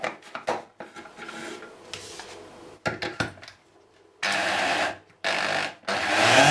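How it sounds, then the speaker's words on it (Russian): A grinder mill chews through cooked mushrooms, giving loud, rough grinding bursts in irregular stretches with short pauses between them, close and with no voices. "Берем мельницу."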